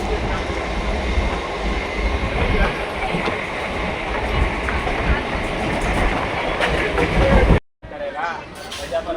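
Rumbling passenger train rolling from Tamil Nadu toward Kannur, Kerala, with steady broadband rattle and rail noise throughout, a sudden brief drop near the end as if passing a gap, then the clatter resumes.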